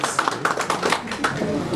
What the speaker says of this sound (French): Petit applaudissement.